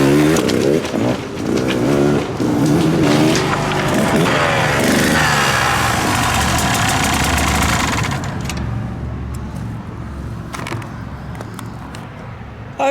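Motorcycle engine with an aftermarket RK Tek cylinder head revving and running on a test ride, loud and close with rising and falling throttle, then easing off and quieter toward the end.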